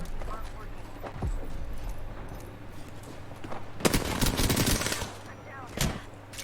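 Bursts of gunfire in the Apex Legends video game, sharp rapid volleys that come in clusters, loudest near the middle and again toward the end over a steady background hum.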